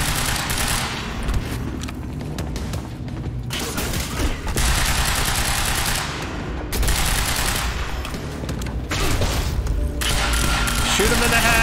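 Dense, sustained gunfire from a Quantum Break firefight, with rapid automatic bursts and heavy booming shots rolling continuously over loud battle noise, and a player shouting now and then.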